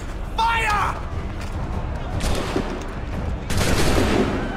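Musket volley fired in the video game Assassin's Creed III: a burst of crackling gunfire and mechanical clatter amid game sounds, with a second sharp volley near the end.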